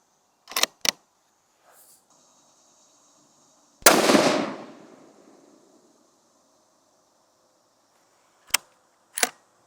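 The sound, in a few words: rifle shots while testing hunting ammo accuracy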